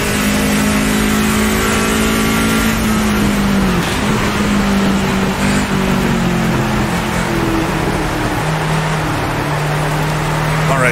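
A race car in the racing video game Automobilista 2 runs on a wet track. Its engine revs loud and close, rising and dropping through gear changes over a constant hiss of spray.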